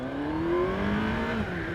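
A Kawasaki Ninja ZX-14R motorcycle accelerates hard in first gear from 20 to 80 km/h, its engine note climbing quickly and steadily, loud and close from the rider's position.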